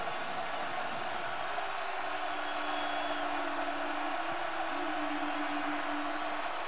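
A steady roar from a big Kansas State football stadium crowd, cheering loudly and continuously throughout, with a faint whistle-like tone and some indistinct voices woven into the wash of noise.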